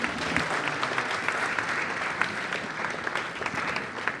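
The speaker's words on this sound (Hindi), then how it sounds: "इसके लिए जोरदार तालियां" A crowd claps steadily, a dense, even wash of applause that holds at a constant level for several seconds.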